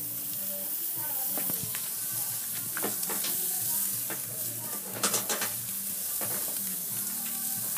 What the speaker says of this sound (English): let's go ahead and put that down for the reverse sear